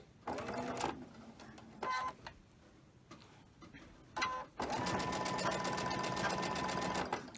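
A sewing machine stitching a quilt block, starting with a few short bursts of rapid mechanical needle chatter, then settling into one long steady run, close and loud, with no voice heard.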